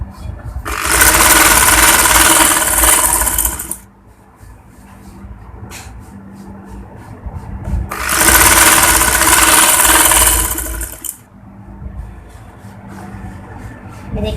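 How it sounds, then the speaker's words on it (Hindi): Sewing machine stitching a boutique-style kurti, running loud in two long bursts of steady whirring with quieter pauses between. "इस तरह से इस पर सिलाई लगाते जाएंगे, इक्वल करते जाएंगे और सिलाई लगाते जाएंगे।"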